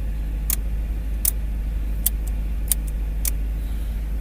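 A car engine runs at a steady, low idle throughout, its even hum broken by a few sharp, isolated clicks.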